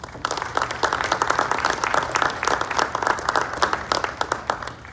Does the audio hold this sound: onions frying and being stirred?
no